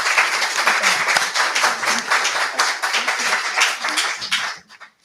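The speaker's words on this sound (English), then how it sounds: "Let's give them a round of applause." An audience at a candidate forum gives school board candidates a round of applause: brisk, dense clapping from a crowd that holds steady for several seconds, then tapers off into a few scattered final claps.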